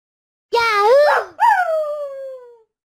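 Two drawn-out, howling dog-like vocalizations in close succession, loud and near, with silence around them.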